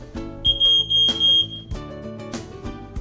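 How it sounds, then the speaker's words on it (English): A residential smoke detector sounds its alarm in a few loud electronic bursts mixed into a busy room, with music-like tones and other noise continuing underneath. "There is a smoke detector in every one of our residences."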